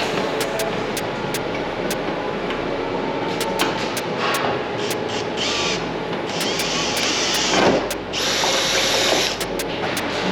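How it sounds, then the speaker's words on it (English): A power drill whirs in repeated bursts with sharp clicks between, drilling into a car body, steady mechanical grinding close by, no talking. "I'm gonna start drilling in here"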